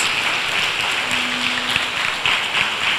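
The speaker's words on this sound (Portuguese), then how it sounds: "Pode aplaudir Jesus." A congregation at a Catholic prayer group applauding, a dense, even wash of clapping from many hands that holds steady at moderate volume throughout, with no voices over it.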